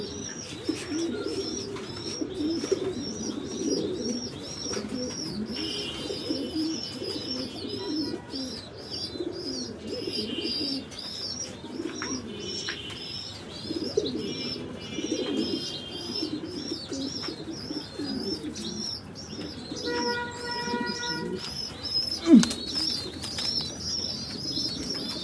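Pigeons coo repeatedly in a pigeon house, soft low calls rising and falling over a background of chirps and faint rustling, with no talk.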